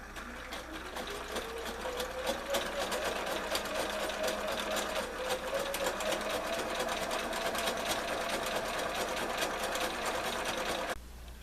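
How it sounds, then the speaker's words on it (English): A sewing machine stitches applique on a manatee quilt block, its close, steady rapid whirring and needle chatter running continuously before stopping abruptly near the end. "Just sewing down the little shrub, and I changed my thread to match it."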